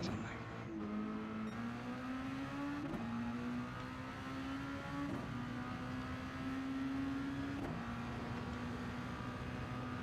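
GT3 race cars in Gran Turismo 7 roar past during a practice race, their engines whining with repeated upshifts over a constant engine drone, loud and continuous throughout.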